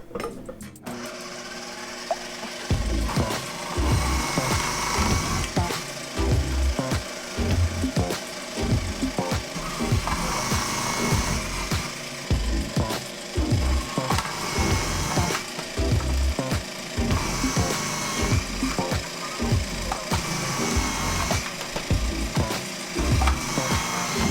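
A food processor grates potatoes for kimchi scallion latkes, a loud steady whirring and rattling grind that runs continuously with rhythmic chunky thumps as pieces are pushed through the grating disc.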